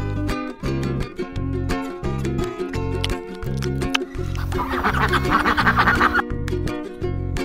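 Ducks quack repeatedly over a loud, rhythmic musical backing, with a brief burst of splashing noise in the middle.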